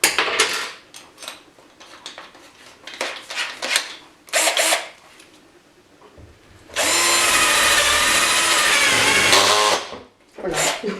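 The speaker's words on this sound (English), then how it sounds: "Boy, this cheap drill's gonna get a workout today." A cheap power drill boring with a paddle bit runs loud and steady for about three seconds, preceded by short bursts of clattering and scraping, then a brief whir after a pause.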